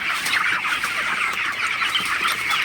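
A crowded flock of broiler chickens clucks continuously inside a poultry farm, many birds overlapping in a dense, close, steady chatter with no talking.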